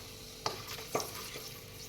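Bay leaves, cloves, cardamom and cinnamon fry in hot oil with a soft steady sizzle, broken by two small sharp pops or stirring knocks, quiet and close, with no talking.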